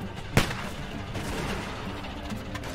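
A single sharp gunshot cracks out early in The Walking Dead Telltale Season 1 game, followed by a dense, steady wash of game ambience.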